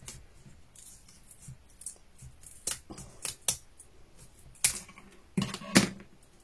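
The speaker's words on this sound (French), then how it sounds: "je vais couper les anses" Small scissors snip through the handles of a miniature wicker basket in a quiet room, a series of sharp, irregular close clicks and crunches with pauses between cuts.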